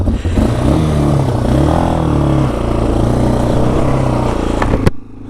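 Yamaha Warrior 350 ATV with a freshly rebuilt carburetor, started unchoked in snow: a loud, close, steady engine idle with rough harmonic rumble and slight revving in the middle, cutting off abruptly near the end.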